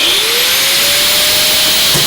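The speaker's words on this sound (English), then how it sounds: "So here we go, cutting a big hole." A power tool cuts a big hole through the sheet-metal body of a 1949 Chevrolet gasser for a steering shaft, giving a loud, close, steady high-pitched whine that runs unbroken for about two seconds.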